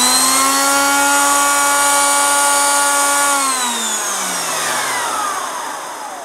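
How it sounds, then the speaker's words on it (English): The motorized rotating brush head of a Miele Complete C2 Cat & Dog canister vacuum whirs with a loud, steady high-pitched hum before switching off and spinning down in a long falling whine. "I'll just show you the rotating brush."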